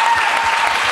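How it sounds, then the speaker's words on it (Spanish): Dense, close audience applause at a live podcast recording, a brief continuous burst of clapping with no pauses. "Un aplauso, por favor."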